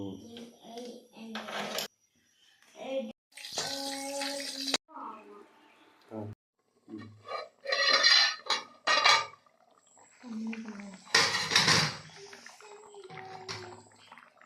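A cooking pan and metal utensils clank and clatter in a home kitchen in uneven bursts, with someone talking between and over the knocks.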